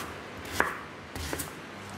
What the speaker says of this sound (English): I'm going to begin the chopping up of the veg.